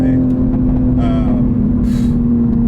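Toyota Supra A90 engine droning steadily from inside the cabin as it accelerates, a loud constant hum with light rustle and short bursts of higher noise on top.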